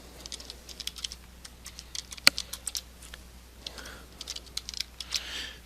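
Rapid, uneven clicking of computer keyboard keys while HTML code is typed, heard close up with short bursts and pauses and no talk.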